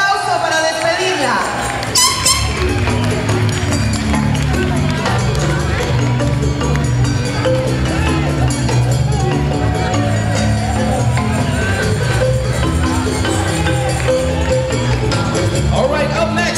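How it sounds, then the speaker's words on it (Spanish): A crowd at a Latina beauty pageant keeps up steady, dense applause and cheering as a contestant leaves the stage, loud and continuous throughout with a sharp burst near the start. "El aplauso para despedirla."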